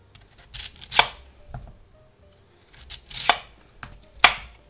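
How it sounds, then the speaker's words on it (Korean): A knife chops through radish being cut into cubes for kkakdugi, with four or five distinct crisp strikes on a board spaced irregularly, separated by quiet pauses and fainter handling sounds. "무가요 굴러다니지 않게 한 요 정도 좀 편편하게, 자, 이렇게 안전하게 잘라 주겠습니다"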